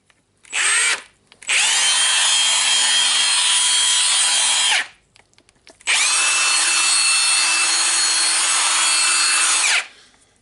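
A freshly regreased Milwaukee nutgun with a 1/2-inch square anvil runs in three loud bursts: a brief blip, then two sustained spins of several seconds each, whining steadily with no wobble, separated by silence.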